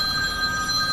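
A telephone rings with a steady electronic bell tone, loud and continuous through the whole short moment, with nothing else heard.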